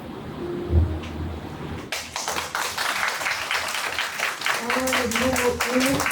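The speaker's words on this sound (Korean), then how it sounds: "다시 한번 박수 한번 해주시겠습니다" Audience clapping after a poetry reading, steady mixed applause filling the room for several seconds, with a voice speaking over it toward the end.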